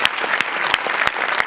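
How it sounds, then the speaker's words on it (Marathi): Loud, dense applause from a live comedy audience claps steadily for two performers, sustained and close throughout the short burst. "जोरदार टाळ्या दोघांसाठी"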